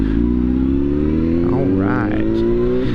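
A motorcycle engine revving steadily while riding, a loud, close, rising drone that climbs in pitch with throttle, with a voice speaking briefly over it.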